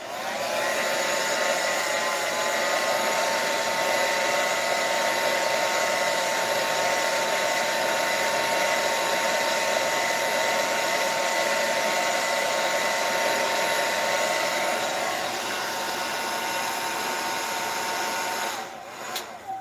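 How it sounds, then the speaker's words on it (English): A hair dryer drying marker ink blows in a steady, loud whine for most of the stretch, then cuts off near the end. "I'll just dry it with my blow dryer"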